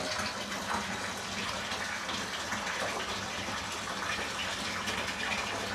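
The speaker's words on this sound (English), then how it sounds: "there's water splashing all over" Water gushing and splashing steadily, a continuous loud broadband wash with no breaks and no voices.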